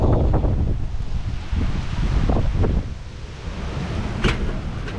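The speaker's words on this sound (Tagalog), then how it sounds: "Medyo malakas lang hangin." Strong wind buffeting the microphone in heavy low rumbling gusts at a lakeside surf camp in Cavinti, Laguna, with rustling and a few sharper crackles, no voices.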